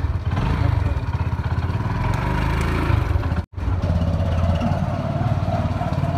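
A motorcycle engine runs steadily and close on an early winter morning ride, a continuous rough mid-pitched drone with a brief cutout near the middle.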